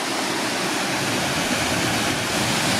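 Loud, steady rush of flowing water at Gasper Lake in Wiltshire, a dense continuous roar with no pauses, close by and with no voices.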